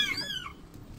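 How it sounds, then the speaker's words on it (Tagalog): A single short, high meow from a small abandoned kitten found by a rubbish bin near a school, close and fairly faint, fading quickly into quiet background noise. "Tapos ito, oh, mga pusa. Lalapit na sa akin."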